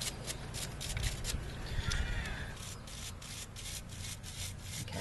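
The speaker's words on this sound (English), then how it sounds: "I'm just going to take this sandpaper though and get a little more off of here." Sandpaper scrubbing corrosion off a Jeep's battery ground connection, a quiet, close, raspy rubbing in quick uneven back-and-forth strokes that continues steadily throughout.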